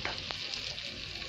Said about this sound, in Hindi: देखो ये डल गया पराठा